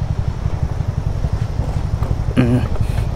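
A scooter carrying two riders climbs a narrow cliffside mountain road on the way to Jomsom in Mustang, with a steady low engine drone throughout and people talking over it.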